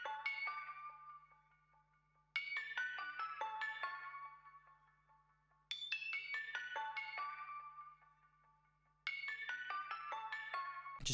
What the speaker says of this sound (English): I've added this music box bell that sounds like this